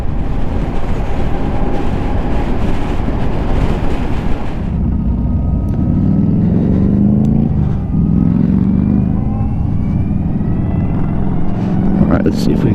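A 2022 Harley-Davidson LiveWire ONE electric motorcycle accelerating on the road, heavy wind rush at first, then a rising electric motor whine that climbs steadily in pitch, loud and close throughout.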